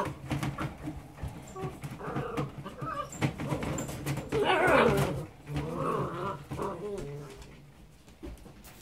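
Puppies whimper and whine in a kennel in soft, high, overlapping cries nearby, with some faint cooing in the background.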